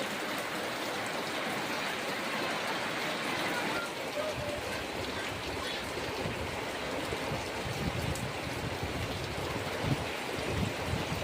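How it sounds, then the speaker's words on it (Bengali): Steady, dense hiss of heavy rain falling, continuous throughout and fairly loud, with a faint voice briefly in the background. "বৃষ্টি শুরু হয়ে গেছে কত জোরে বৃষ্টি হচ্ছে"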